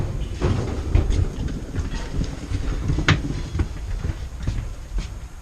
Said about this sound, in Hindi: पहली बार रशियन ट्रेन में जा रहा हूँ.